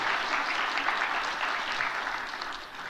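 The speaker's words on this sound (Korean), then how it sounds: "박수로 환영하겠습니다." A church congregation applauds to welcome visiting missionaries, a dense, even round of clapping that fills the whole stretch and tapers slightly at the end.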